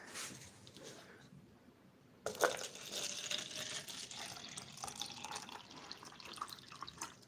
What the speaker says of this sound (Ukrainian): зараз налю відстояної води сюди в стаканчик